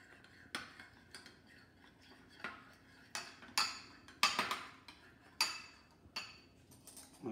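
A utensil clinks against a bowl while gazpacho topping is mixed with crème fraîche and heavy cream, producing a string of separate light taps and scrapes, fairly faint and irregular, with no talking.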